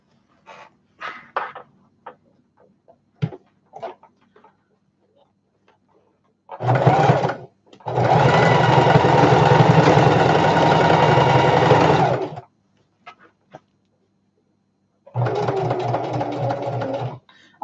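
A sewing machine stitches a shoulder bag in two long, steady motor runs of several seconds each, after a shorter burst and scattered handling clicks and knocks at the start.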